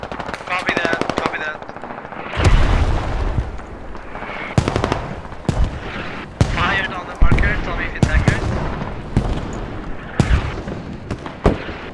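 Artillery guns fire on an attack marker in the video game Squad, Middle East Escalation mod: a rapid burst of machine-gun fire opens, followed by repeated heavy booming shots and sharp cracks at irregular intervals, loud and close, with faint radio chatter in between.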